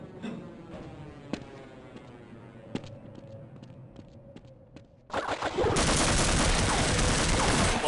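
Gunfire in the video game Half-Life: scattered sharp shots early on, then a loud, dense burst of rapid fire from about five seconds onward. The shooting is close and continuous.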